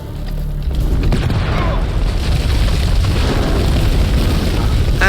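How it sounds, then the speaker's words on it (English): A grenade blast in the horror game House of Ashes, a loud, dense rumbling boom that swells in and holds heavy for several seconds, with faint shouting beneath it. "Oh, grenades. Grenade!"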